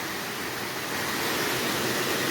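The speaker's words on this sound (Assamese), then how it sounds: "সেইটোৱে সেই জলপ্ৰপাতটো যোনটো হৈছে হদহদি ৱাটাৰফল বুলি কোৱা হয়" Hadhadi waterfall near Nagaon, Assam, roars as a steady, dense, unbroken rush of falling water that stays loud and even throughout, with no voices.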